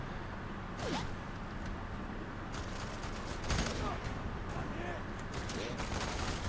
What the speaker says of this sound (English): Yeah, that submachine gun is just leagues better than the shotgun.